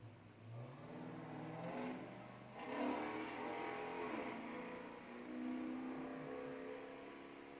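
Loud car engine accelerating on a Washington DC street, revving and climbing in pitch several times as it passes, fairly close and dominant with no voices over it.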